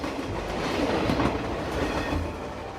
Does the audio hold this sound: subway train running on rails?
yes